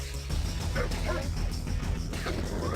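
Attack dogs in the Red Alert strategy game bark and yip repeatedly in a loud, dense burst of overlapping barks amid the busy battle sound.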